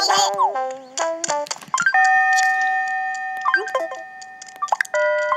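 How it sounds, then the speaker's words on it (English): An hourly town chime from Animal Crossing: New Leaf marks five o'clock as a series of bright, bell-like electronic tones, some held and some quickly repeated, rising and falling over about five seconds with no talking. "it's 5 o'clock now, so the bell's gonna ring"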